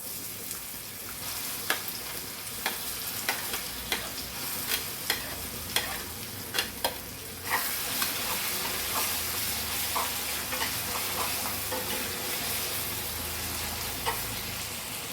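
Bajji fritters fry in oil with a continuous sizzle, with repeated light taps of a spoon or ladle against the pan, steady and close.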